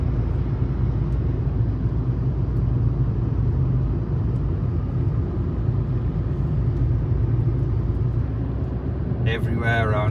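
Car cruising along a country road near Miravet, Spain, a loud continuous engine and tyre rumble from inside the cabin with someone talking over it throughout.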